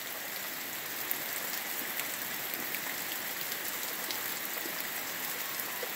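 Rain falls steadily in the Bahian sertão backcountry, a dense even hiss of drops on surfaces, moderately loud and unbroken, with no voices.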